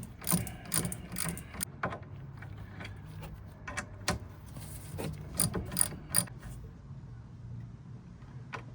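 A ratchet clicks in uneven bursts while undoing rear brake caliper bolts on a 2007 Ford Focus, crisp close metallic ticking with pauses between strokes.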